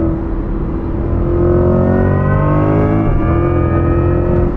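A Chevrolet C8 Corvette E-Ray with a dual-clutch transmission accelerates hard, its engine note climbing steadily, then dropping sharply at a quick gear shift before rising again, loud and close.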